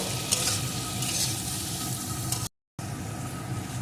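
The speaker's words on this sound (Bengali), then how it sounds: "পরিমাণ মতো লবণ আর একটু হলুদ গুঁড়ো এখন সমস্ত কিছুকে একসাথে ভালো করে কষিয়ে নেব" Vegetables with green chilli, salt and turmeric are sautéed in a pan, a loud continuous sizzle with stirring and scraping, broken once by a brief cut to silence before the frying resumes.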